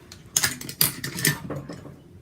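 The bolt carrier and buffer of an Olympic Arms MPR 308-15 rifle are worked by hand, giving a few sharp metallic clicks and sliding clacks, close and fairly quiet.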